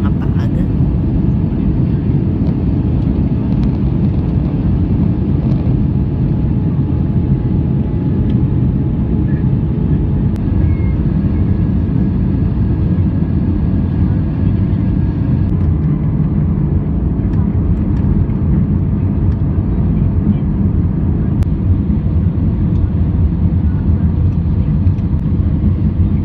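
Steady, loud broadband roar of a passenger airliner's engines and cabin rumble during landing at Pune on a flight from Delhi, continuous throughout with no distinct touchdown thump.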